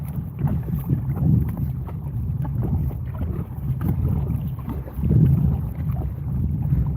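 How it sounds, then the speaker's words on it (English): Kayak paddled across open water from a sailboat toward an island in Southwest Florida, with a steady low wash of water and wind rumble and soft rhythmic paddle splashes. "I got to paddle from my sailboat to the island to go to work"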